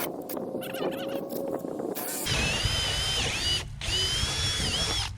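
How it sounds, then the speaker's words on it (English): Cordless 18-volt portable drill running in steady high-pitched whirring bursts outdoors at a creek crossing build, starting after a stretch of ambient noise and pausing briefly before spinning up again, close and loud. "I got my portable drills, and let's go at it"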